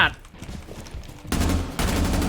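Bursts of rapid automatic gunfire in Rainbow Six Siege, loud and dense, with a brief lull and then a second sustained burst.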